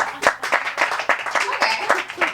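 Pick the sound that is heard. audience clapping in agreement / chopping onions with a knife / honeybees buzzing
audience clapping in agreement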